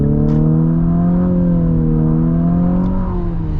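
Infiniti QX50 Sport with a CVT under hard acceleration, the engine droning loudly at a steady, slowly climbing pitch typical of a continuously variable transmission, heard from inside the cabin with no talk.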